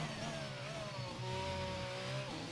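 A race car in a racing video game brakes hard into turn one at Monza, its engine a continuous loud whine that shifts pitch as it slows, with no voices over it.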